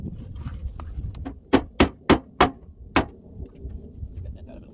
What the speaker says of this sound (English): So here we are hammering on this poor corner for nothing.